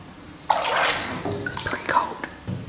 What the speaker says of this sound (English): I've had my feet in the warm water for about 4 minutes, and then they're going in here for apparently 10 seconds